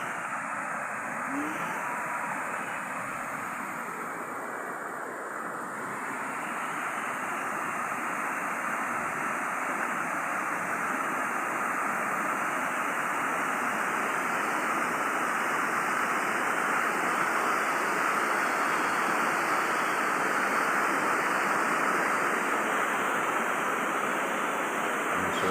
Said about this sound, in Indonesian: Sungai yang katanya buat mandi Ratu Kalinyamat ketika melakukan sholawat di tempat ini.